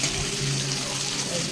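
Water pouring onto thin-grained rice in a bowl to soak it for chicken biryani, a steady broadband splashing rush running unbroken at close range with no talk over it.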